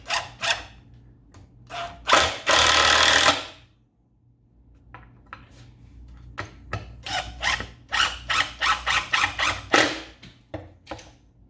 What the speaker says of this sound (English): you take your 2 longer screws from before and you shoot those screws in